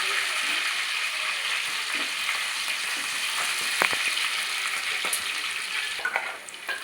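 Onion paste frying in a pan for a tamarind curry, a loud steady sizzle throughout with occasional stirring scrapes and small clicks near the end.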